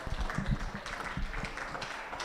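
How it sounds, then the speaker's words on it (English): Audience applause for the members at a beef ring show at the Alberta Provincial Show in Stettler, Alberta: faint, steady clapping from a crowd, sustained throughout without a clear start or stop. "can we please get a round of applause for all the members and the hard work"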